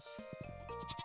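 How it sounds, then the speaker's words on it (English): Goat bleating in the farming video game Stardew Valley, a single wavering bleat with a tonal, nasal quality that rises over light background music and stands out clearly. "Actually, that was a goat."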